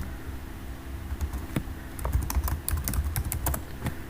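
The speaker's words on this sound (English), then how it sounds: "just a minute, I am typing it." Keys clatter on a computer keyboard in quick irregular bursts during an online history lecture, light clicks tapping steadily over a low hum with no talk.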